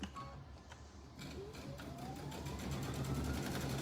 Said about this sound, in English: we are sewing along here